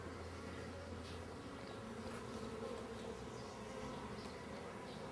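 Steady buzzing of bees during bee sting therapy, a continuous droning hum with no talking, holding at an even level throughout.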